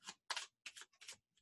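A deck of Lenormand cards is shuffled quietly, giving five or six short, crisp rustling bursts in quick, uneven succession.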